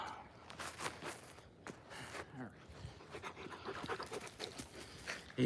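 A puppy just back from a run pants rapidly and faintly in quick, even breaths, with soft footsteps and faint indistinct voices in the background.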